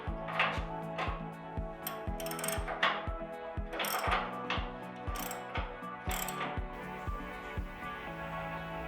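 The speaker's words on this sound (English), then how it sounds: "pushing the M14 bolts through the brackets, through the bush centres and out the other side for adding the nut and tightening down" A ratchet tightening nuts onto M14 bolts through bushed brackets during assembly of a Land Rover Defender rear A-frame, giving quick metallic clicking strokes in a steady rhythm, close up and alone.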